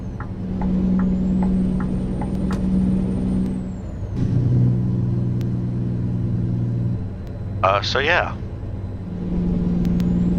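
A Freightliner Coronado truck engine in Euro Truck Simulator 2 drones steadily at low pitch, with a hiss of air brakes and brief clicks, as a voice speaks briefly over the rumble.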